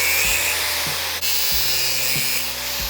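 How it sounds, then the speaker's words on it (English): Cut-off wheel grinding the ends of a U-joint, a high whining hiss broken by a few short bursts as the tool meets the metal, close and loud. "Cut-off wheel is a nice way to dress up the ends"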